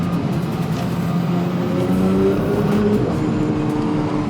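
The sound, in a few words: 2022 Porsche 992 GT3 engine at throttle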